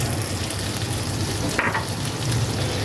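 Spices and tomato puree sizzle steadily in a pan for a dried lotia fish and Malabar spinach curry, a dense close frying crackle with a brief stirring scrape.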